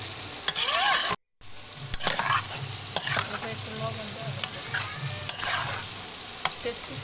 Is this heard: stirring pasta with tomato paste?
yes